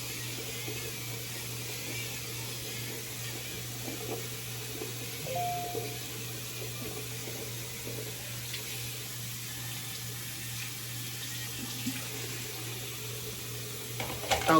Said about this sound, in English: now we're gonna go ahead and rinse this face off